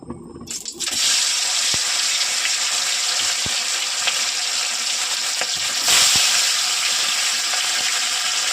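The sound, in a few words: hilsa fish frying in hot mustard oil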